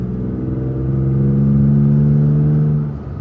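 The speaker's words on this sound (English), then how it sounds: "So listen to that exhaust." A pickup truck's exhaust drones in a deep, loud, sustained rev that builds slightly, holds steady, then drops off near the end, close to the listener.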